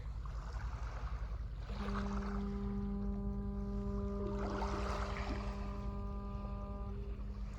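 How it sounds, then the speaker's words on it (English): A long, low foghorn blast sounds for several seconds over steady rushing wind and water noise at a foggy beach, fairly loud and sustained. "Might have to turn up your volume, but that was a foghorn,"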